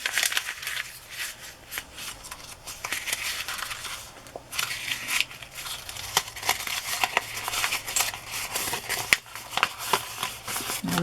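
Paper craft tag crumpled by hand a second time for distressing, a dense, close crackling and crinkling that keeps going throughout in uneven bursts.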